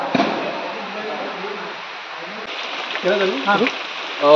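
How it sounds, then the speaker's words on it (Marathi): Steady rain falls outdoors on a trip to the Kondane caves, a continuous wash of patter and hiss throughout, with voices talking over it. "बघ पाऊस आला."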